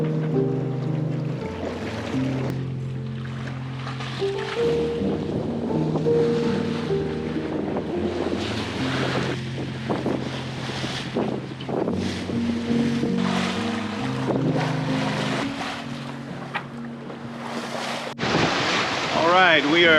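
Sailboat motoring past a reef off the Crooked Islands, a steady low engine drone under wind and rushing waves, with voices talking close by and a sudden warbling noise near the end.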